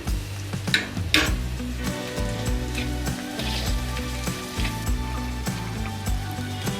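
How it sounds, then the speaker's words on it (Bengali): Chopped onion and cumin powder fry in a pan for a soybean snack, giving a steady, close sizzle with a few scraping stirs, all under music. "এবারে পেঁয়াজটাকে একটু ভেজে নেব। এবারে জিরে গুঁড়োটা দিয়ে দিলাম"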